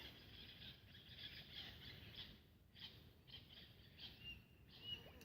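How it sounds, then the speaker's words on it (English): Wild king parrots give faint, high, squeaky calls in repeated short bursts, distant and quiet over a soft outdoor hush. "King parrots."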